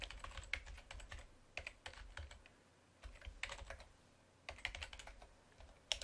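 A command is typed on a computer keyboard in quick bursts of close, crisp key clicks, separated by short pauses, with no voices.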